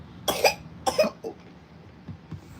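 A pair of sharp coughs, then a weaker third, all close by in a quiet room, with faint rustling after them.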